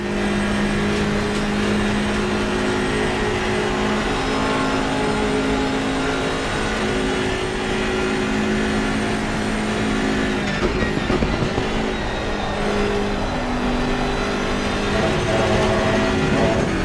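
Race car engine in a sim-racing game, steady loud drone with constant pitch while slipstreaming close behind a Porsche on a straight, tone wavering briefly near the middle.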